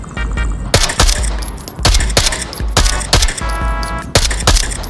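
Repeated loud gunshots at an indoor-style gun range, several sharp close reports spaced about a second apart with ringing tails and clicking in between, no talk.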